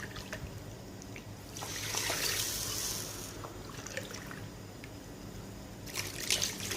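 Water is poured into a pot of sugar on a stove to make syrup, a soft splashing trickle that swells in a couple of brief bursts over quiet background noise.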